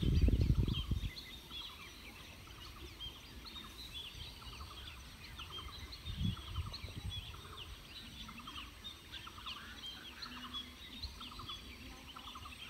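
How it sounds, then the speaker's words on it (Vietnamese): Many wild forest birds call together in a dawn chorus in the woods at Tà Năng, dense overlapping chirps and calls at moderate distance, with a low thump near the start. "tiếng chim kêu rất là nhiều. Chim rừng kêu đó các bạn."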